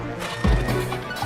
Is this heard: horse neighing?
yes